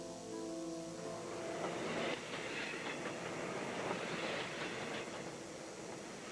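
A grain train rumbles steadily along the tracks in the Canadian Rockies with a continuous rolling roar and faint clacking of wheels, heard alone without voices.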